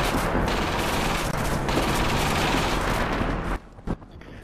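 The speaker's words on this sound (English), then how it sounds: "there's an MG firing out on the first" Sustained machine-gun fire in the WWII shooter Darkest Hour, aimed at a first aid station: dense, continuous bursts that are loud and close, cutting off abruptly near the end with only a brief shot after.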